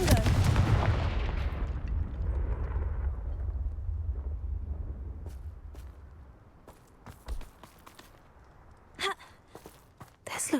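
A Confringo fire spell in Hogwarts Legacy bursts in a loud explosion with a low rumble that slowly fades, followed by sparse clicks and footstep-like taps.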